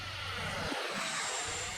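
Arrows Marlin 64mm electric ducted-fan RC jet making a full-speed pass down a runway with the wind, a steady whooshing turbine-like roar that holds constant throughout with no talk.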